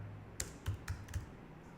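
Several quick keystrokes on a computer keyboard, four or five soft, uneven clicks close by in a quiet room, with no voices.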